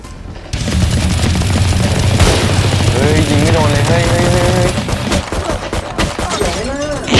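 Rapid, dense gunfire fills a Valorant match throughout, loud and continuous, mixed with game effects and music, while a player talks excitedly over it.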